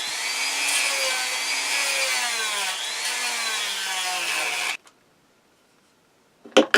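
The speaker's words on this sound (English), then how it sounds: "I'm just gonna use a sanding bit to kind of grind the stub down" A small high-speed rotary tool with a sanding bit whines and grinds down a stub on jackalope wall art, its pitch wavering under load, then cuts off, followed by a brief clatter.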